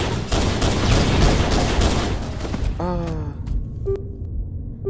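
Pistol fire in the Halo video game comes as a fast stream of close, loud shots, mixed with other game gunfire and impacts, and then stops abruptly into quieter game sounds with tonal effects.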